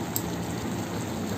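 Water is poured into a pan of dhaba-style paneer masala, making a steady broadband rushing and gushing noise, moderately loud and constant throughout, with nothing else standing out.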